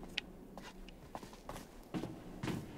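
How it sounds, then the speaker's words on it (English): Footsteps echo in a dark cave in The Quarry, a handful of sharp, irregular steps at moderate distance over low ambient rumble. "Oh, loud echoing footsteps."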